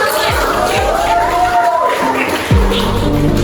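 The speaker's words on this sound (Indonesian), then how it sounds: "Tepuk tangan dulu, Pak." A classroom of students claps and murmurs together, a fairly loud crowd-like burst with voices mixed in and a few low thumps standing out above the clapping.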